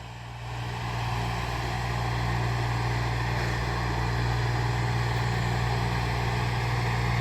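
A tractor engine runs while ploughing a field, a steady low droning hum with strong low harmonics that rises in the first second and then holds constant and even throughout, with no talk.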